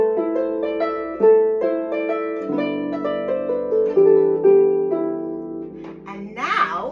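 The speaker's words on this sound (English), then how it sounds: "This is on the Celtic harp, and this is by Thurlough O'Carolan." A Celtic harp plays a Turlough O'Carolan tune, with bright plucked notes ringing and overlapping in a steady melodic line, close and clear, ending with a brief high rustle.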